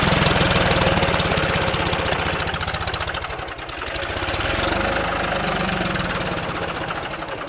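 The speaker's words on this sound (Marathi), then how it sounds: "तो ट्रॅक्टर काढू दे पहिले" A tractor engine runs close by, loud and continuous, with a steady rapid chugging knock that dips briefly midway before picking back up; no one speaks.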